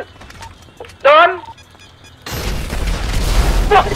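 A car blows up in the GTA 5 video game, a sudden loud blast with rumbling debris that follows a stretch of excited talk and game noise, and the roar carries on under more talk.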